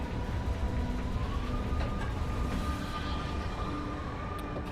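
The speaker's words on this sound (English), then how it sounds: "That bloody train sent me over the edge, that did." A train rumbles past in the ride simulation game Ride Sims 2, a steady, loud rolling drone with faint tonal whines and a few sharp clanks, with no voices.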